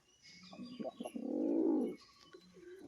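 A male pigeon coos up close: a few short throaty notes, then one long rolling coo, with soft rustling around it.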